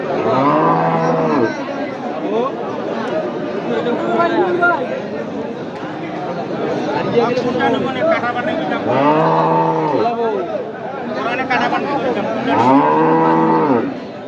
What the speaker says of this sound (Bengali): এক জোড়া মাংসের গাভী দেখছি আমরা।